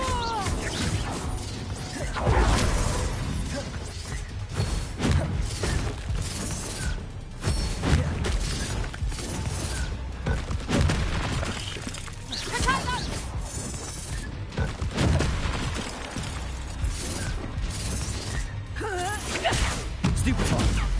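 Spell effects in Hogwarts Legacy: a steady run of magical whooshes, crackling impacts and crashes during combat, loud and continuous with scattered sharp bursts over about twenty seconds.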